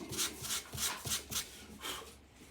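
A wooden guitar neck is rough-shaped by hand, giving a series of rhythmic rasping strokes, about eight in a row, close up and fairly quiet, with no talk.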